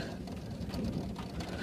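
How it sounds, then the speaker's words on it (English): Steady rain drums on a vehicle while driving out of the Grand Canyon during a hailstorm day, a dense, even hiss and patter with low road rumble underneath, close and continuous with no talk. "out of the Grand Canyon in the rain."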